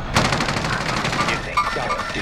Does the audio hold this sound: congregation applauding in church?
no